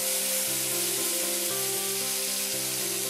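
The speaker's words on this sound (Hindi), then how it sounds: "पेस्ट को चलाते हुए भून लेंगे" Onion paste frying in a pan with spices such as cumin and cinnamon, a loud continuous sizzle with rhythmic stirring scrapes.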